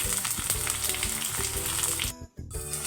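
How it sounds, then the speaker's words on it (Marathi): Onion and tomatoes fry in a pan with a dense, steady sizzle close up, briefly dropping out for a moment before the hiss resumes. "आता टोमॅटोसुद्धा व्यवस्थित फ्राय करून घ्यायचं आहे"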